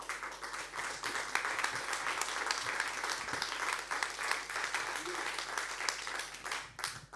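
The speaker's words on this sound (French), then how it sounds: "Merci de l'accueillir et de l'applaudir." Audience applause welcoming a speaker at a business leaders' conference in Avignon, dense continuous clapping from a seated crowd, fairly even and moderately distant, with faint murmurs underneath.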